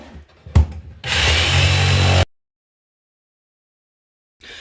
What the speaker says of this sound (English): So I'll use the jigsaw to cut the hole in the floor.